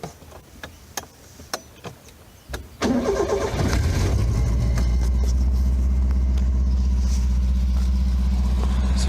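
A Subaru car engine with a mechanical choke cranks with a few ticking turns, then catches at about three seconds and settles into a loud, steady idle close by.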